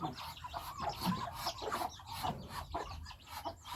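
Farmyard ducks and chickens, with faint clucking and scattered fowl calls over a low scratchy background, heard at a distance and fairly quiet.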